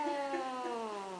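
A pet cat lets out a single drawn-out meow that slides gradually downward in pitch, close and clear, lasting about a second.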